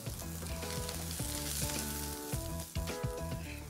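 Mustard seeds, curry leaves and onions hit hot oil with a loud, dense sizzle, broken by stirring clatter and a brief scrape near the end; background music plays along.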